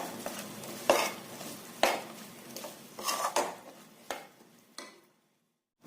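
A spoon scrapes and stirs a gram flour coated mixture in a pan over low heat, with a series of distinct knocks and scrapes at uneven intervals before falling silent.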